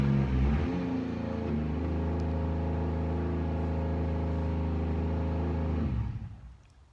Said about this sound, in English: Yeah, the drift cart is obnoxiously loud.